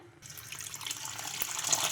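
Water pours steadily into a bowl of washed lentils, a splashing stream that grows fuller and louder over a couple of seconds.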